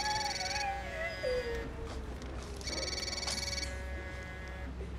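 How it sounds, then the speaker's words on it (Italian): A mobile phone rings with a melodic electronic ringtone in two bursts, a short tune repeating with a gap between, moderately loud indoors. "Oddio, il cellulare."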